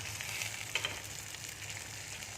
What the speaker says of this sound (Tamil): தேவையானதெல்லாம் வதக்கிக்கலாம். வெங்காயம் போட்டேன், 2 பூண்டு, வரமிளகாய், கொத்தமல்லி, ஜீரகம், மிளகு